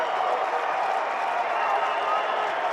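A Syracuse home crowd roars steadily at an NCAA college lacrosse game against Towson, a loud, dense wall of cheering and applause with no breaks.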